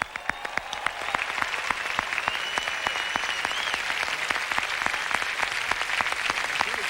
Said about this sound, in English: Let's give a big round of applause for both players for a great championship match.